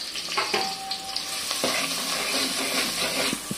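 Two large cut onions fry in a pan for a crab masala, giving a steady, close sizzle with no voices.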